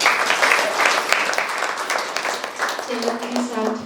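Audience claps steadily through a Brahma Kumaris memorial gathering in Jai Vihar, Delhi, loud and continuous across the room, with a voice speaking over the applause toward the end.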